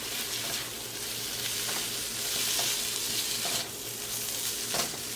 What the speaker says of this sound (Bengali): আর এটাকে এবার আমি প্রনসের সঙ্গে মিক্স করে নেব।